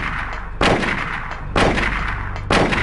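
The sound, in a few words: gunfire in the video game Silent Hill (PS1)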